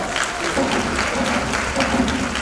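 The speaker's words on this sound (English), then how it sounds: "Give yourselves a round of applause." Steady applause from a crowd at a university Kente graduation ceremony, dense and continuous for a couple of seconds at moderate loudness.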